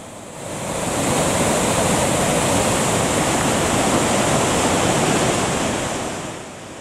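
An Icelandic waterfall with dangerous rapids above it gives off a powerful, unbroken roar of rushing water. The sound rises in over the first second, holds steady and full, then eases slightly at the end, with no voices.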